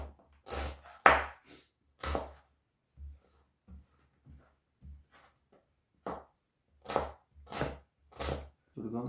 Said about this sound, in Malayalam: ഇത് നമുക്ക് ചെറുതായിട്ടൊന്ന് കട്ട് ചെയ്ത് കൊടുക്കാം.